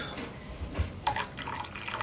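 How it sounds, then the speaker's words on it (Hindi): Milk being poured into a cup of homemade tea, a soft, close trickle with a few faint splashes and drips, quiet and brief. "Add some milk."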